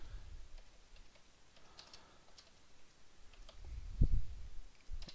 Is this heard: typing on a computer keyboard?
yes